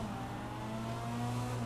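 A tuned Dinka Postlude engine revs in GTA V on PC with a steady, rising tonal drone, close and continuous throughout the short stretch.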